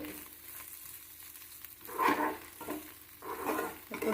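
Flat beans (goruchikkudu) being mixed and fried in a pan make a soft sizzle, with louder scraping stir strokes around the middle and again near the end, close by and with no talking.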